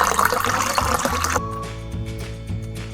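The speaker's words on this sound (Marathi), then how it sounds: "बटाटा चिरून झाल्यानंतर खाळा धुवून घ्यायचे" Chopped potatoes being washed in water, with a loud splashing, sloshing rush for over a second, then quieter water and faint clinks as it settles.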